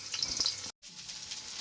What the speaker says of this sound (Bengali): ভাত কটা সুন্দর করে ভেজে নিই ডিম দিয়ে, কালো জিরে পেঁয়াজ রসুন দিয়ে